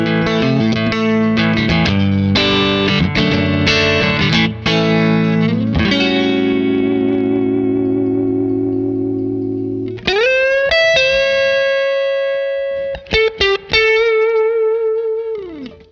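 Electric guitar through an Origin Effects Cali76 Stacked Compressor pedal, input level up and through level down, with heavy sustain and compression, chords strummed then held and decaying smoothly, followed by bending single notes ringing out.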